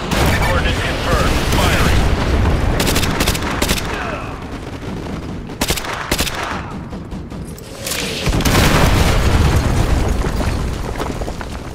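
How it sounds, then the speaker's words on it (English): Heavy artillery explosions in the game MW2 Remastered on PS5, a series of loud booms and rumbling blasts rolling over a continuous battle din, close and dense with sharp bursts throughout. "Artillery inbound."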